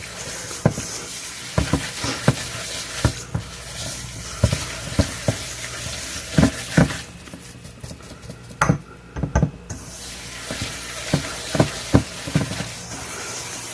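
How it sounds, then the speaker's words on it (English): Brown butter and brown sugar are whisked together in a bowl, giving a steady series of sharp, close clinks and scrapes in an uneven rhythm, with no talking. "So we're going to whisk all this together."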